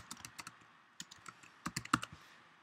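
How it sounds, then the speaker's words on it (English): Fingers type quickly on a computer keyboard, a short run of quiet, irregular clicking keystrokes with no voices. "very quickly type in Cafe Claude in the collect box"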